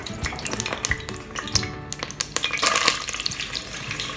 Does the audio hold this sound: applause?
no